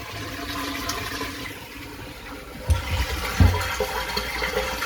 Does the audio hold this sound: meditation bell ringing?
no